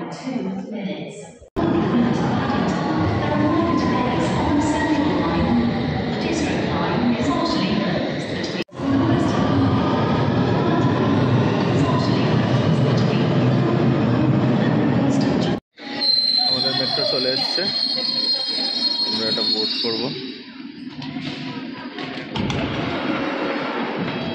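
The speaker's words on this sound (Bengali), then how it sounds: "9 মিনিটের ট্রেন আসছে" A London metro-style train rumbles steadily into an underground platform with screeching wheel squeal, loud and continuous, followed by a chiming platform announcement and people chatting.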